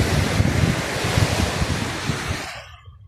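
Sea waves wash onto a beach on Jomalig Island in the Philippines, a continuous rushing surf mixed with heavy wind buffeting the microphone, fading out abruptly near the end.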